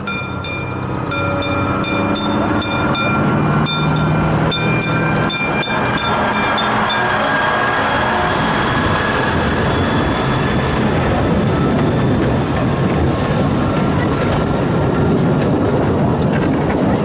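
Local tourist tram running along its line, a loud, continuous rumble of wheels on rail with metallic squeals and rattling, passing close by for the whole stretch.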